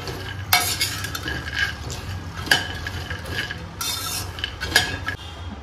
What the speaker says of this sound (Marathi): तूप थोडंसं गरम झालं की त्याच्यात आपण सगळे ड्रायफ्रुट्स भाजून घेऊया.